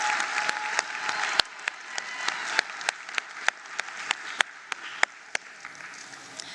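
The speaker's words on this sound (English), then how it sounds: "Let's give him a round of applause." An audience at the 2024 National Senior Certificate results announcement applauds steadily with dense, sustained clapping, a few sharp individual claps standing out above the wash.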